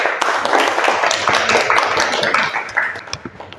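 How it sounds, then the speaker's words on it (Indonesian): Clapping from a classroom audience after a group presentation on photography services, a dense, fairly loud patter of hands that carries on steadily and then thins into scattered claps at the end. "Ya, tepuk tangan presentasinya."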